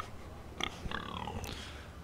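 Pig in a Game of Thrones video game giving a few short grunts and oinks, faint and close against a low background rumble, with no talk.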